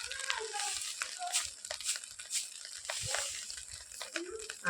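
A spoon stirs food seasoned with salt, sugar and garam masala in a pan, making soft scraping and faint sizzling in irregular strokes, quiet and close.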